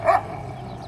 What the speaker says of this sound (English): These doggies don't like us here